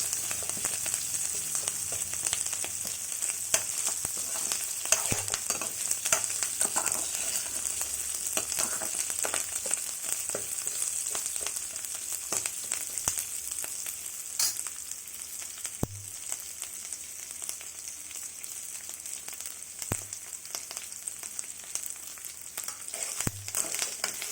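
Steady close sizzling as mustard seeds, cumin, black gram and chana dal, ginger, and red and green chillies fry in hot oil for tempering, with faint occasional stirring taps and no voices.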